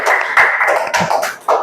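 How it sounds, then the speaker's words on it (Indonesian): Classmates clapping for a student named Tiana in a classroom lesson, a short burst of scattered hand claps, fairly close and lively, with no talk over it. "Tepuk tangan buat Tiana."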